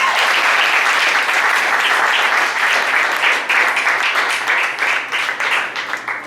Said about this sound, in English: Give your friends up here a big round of applause.